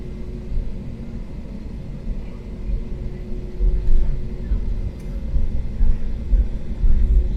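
Inside the cabin of a Swiss Airbus A320neo taxiing toward the north runway: a steady low engine rumble and hum with faint bumps, no clear talk.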